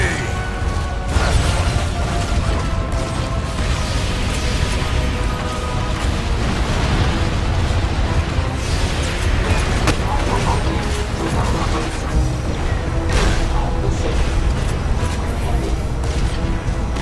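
Combat in Transformers: Revenge of the Fallen, Autobots campaign in Shanghai: loud continuous barrage of weapon fire, mechanical clanks and explosive booms filling the whole stretch, dense and unrelenting.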